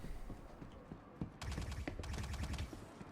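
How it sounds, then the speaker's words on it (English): Rapid bursts of gunfire from the Star Citizen video game, dense overlapping volleys that intensify partway through and continue steadily to the end, loud and close with no talk. "Are they shooting at me? I think they are."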